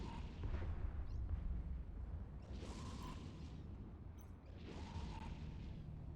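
Large rapid missile launcher with a rapid-fire module firing in the Eve Echoes video game, a dense, continuous low rumble of launches and distant booms, with two brighter swells rising over the steady roar, no talk.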